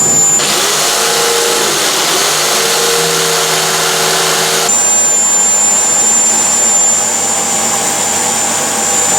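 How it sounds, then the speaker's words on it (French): A jigsaw saws through a kitchen worktop to make the opening for a cooktop, a steady loud motor whine with a high buzzing tone that shifts pitch partway through the cut and carries on without a break. "Il ne reste plus qu'à mettre la lame de scie sauteuse à l'intérieur"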